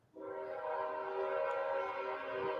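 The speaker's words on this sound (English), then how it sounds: "Is that a real train?" A train horn sounds close and loud, a steady blaring chord that swells and holds for about two and a half seconds with rumbling underneath.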